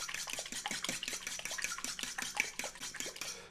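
A fork or whisk beats an egg mixture with mustard in a bowl, making a fast, even run of clicking and tapping strokes against the sides that carries on steadily and close by.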